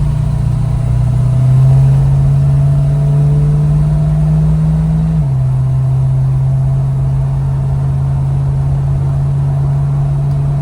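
A 1971 K10 truck engine with Dynomax Super Turbo 17733 mufflers gives a deep steady exhaust drone, rising slightly in pitch as it revs, then settling back to a lower even rumble, loud and close with no talk.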